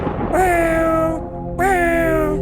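An animated cat meows twice, loud and close, each call a drawn-out, rising then falling cry with a short pause between, over a faint steady background.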